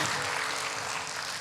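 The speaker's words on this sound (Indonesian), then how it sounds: "Kalau baik berikan tepuk tangan dulu," A church congregation claps together in a dense, continuous wash of applause during a sermon, loud and full for the whole short burst.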